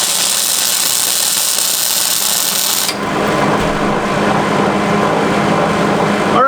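A torch roars steadily and loudly while burning off a seized brake bleeder valve, its hissing flame tone shifting partway through.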